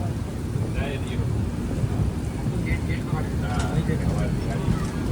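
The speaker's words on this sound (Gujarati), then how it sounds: "અત્યારે વરસાદ ચાલુ છે" Rain falls steadily in Rajasthan with a low rumbling undertone of a thunderstorm, a constant dense patter with faint distant voices in the background.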